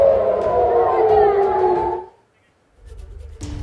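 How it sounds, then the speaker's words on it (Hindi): An air raid alert siren in Haifa, Israel wails loud and close in a long rising-and-falling tone, cuts out abruptly to near silence, then faint background noise and a brief distant sound return. "देखिए कैसे अलर्ट का सायरन बजा और फिर लोग छिपने के लिए इधर उधर भागने लगे"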